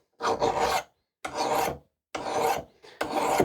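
A file rasps along the edge of an axe being sharpened, four long deliberate strokes with short silent gaps between them, close and crisp with no talk.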